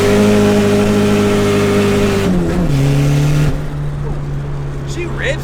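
A turbocharged KA24DET engine revs hard on a dyno, a loud sustained steady drone that drops in pitch as the throttle closes, then winds down to a lower idle hum.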